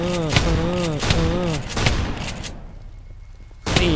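Rapid gunfire in the Roblox game SCP-3008 rattles out in dense repeated bursts while a voice talks excitedly over them, then drops to near quiet before another burst cuts back in.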